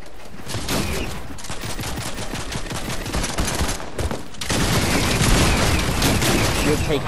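Rapid bursts of gunfire in a squad-based shooter video game, dense and continuous across the clip, growing louder near the end, with players talking over it.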